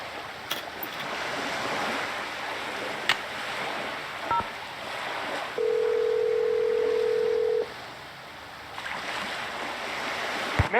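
Telephone dial tone and touch-tone dialing in the Nancy Drew game Danger on Deception Island, with a steady two-second tone and a few isolated dial beeps over a constant surf-like ambient wash.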